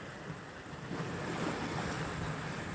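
Wind gusts steadily at the ocean shore ahead of an approaching rainstorm, a continuous broadband roar with surf beneath it that swells slightly after the first second and then holds level, with no voices.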